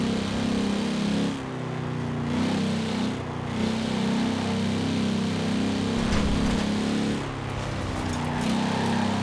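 A car engine in Forza Horizon 4 drones with a low, steady hum, the pitch holding fairly even with brief dips and shifts, loud and alone throughout.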